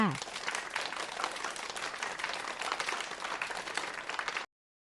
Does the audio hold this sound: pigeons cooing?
no